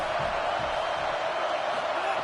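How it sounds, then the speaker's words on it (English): Home crowd at an Auburn versus Indiana college football game, a dense steady roar filling the stadium at constant loudness, with a voice speaking over it. "Now this home crowd making life difficult."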